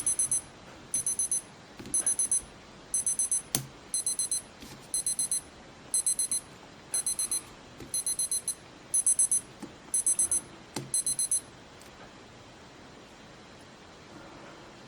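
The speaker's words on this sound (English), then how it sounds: "Oh, there goes the alarm for the timer." A Casio G-Shock DW-5200C digital watch sounds its timer alarm as a loud, close series of high electronic beep bursts in a steady repeating pattern, about eleven groups, then the room falls quiet.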